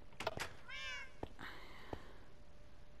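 A cat meows in the Minecraft video game, a short clear meow with a few small clicks and taps around it, heard alone.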